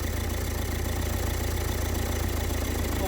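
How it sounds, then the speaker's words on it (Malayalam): Hyundai Verna engine with a VGT turbo, running steadily at idle while the turbine wheel spins, a constant close mechanical drone with no talk. "Okay, turbine wheel കറങ്ങുകയാണ്."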